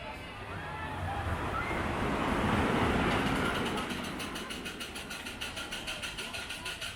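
The Scenic Railway wooden roller coaster at Dreamland, Margate, rumbles loudly down a drop, swelling in the middle, then a rapid rhythmic clatter of wheels on track as it runs on.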